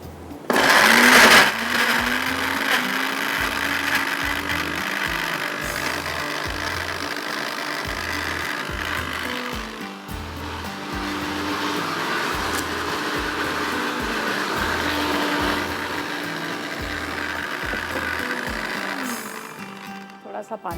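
A kitchen blender grinds chickpeas without water, a loud rough whirring motor that stops and restarts in pulses, with a sharp clatter at the start and quieter gaps between bursts.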